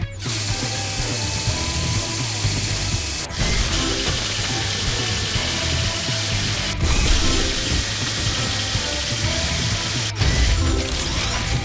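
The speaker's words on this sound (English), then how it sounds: "The drill, then press repeatedly." A drill mechanism in the PAW Patrol The Movie: Adventure City Calls game grinds and ratchets loudly and continuously, broken by short clicks into three or four repeated stretches.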